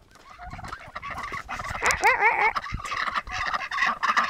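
Newly arrived ducks quack loudly and raucously at close range in a fairly steady chorus, with overlapping honking calls rising in intensity.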